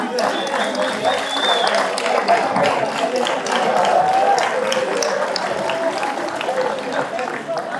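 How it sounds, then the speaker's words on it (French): Crowd applause for Claire Chabert at an outdoor enduro mountain-bike podium ceremony, a steady wash of clapping and cheering that holds for the whole stretch, with a presenter talking over it. "Claire, que vous applaudissez s'il vous plaît,"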